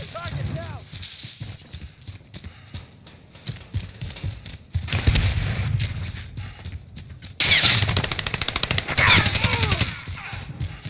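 Video game gunfire: a rapid burst of shots rings out near the end, set amid game noise, music and talking voices, with scattered single reports earlier.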